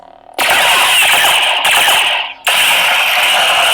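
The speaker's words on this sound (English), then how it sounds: "Your blaster bolts." Rapid blaster-bolt deflection effects from an Anakin/Luke Skywalker replica lightsaber blade fire as loud, harsh crackling bursts, with one short break and a deeper dip before the effect resumes and holds steady.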